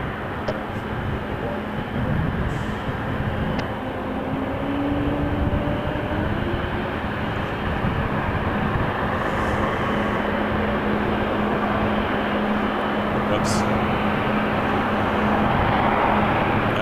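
Airbus A220 airliner taking off at Toronto Pearson, a steady broad jet roar that swells gradually and holds over many seconds, heard from a distance with a constant whine above the rumble.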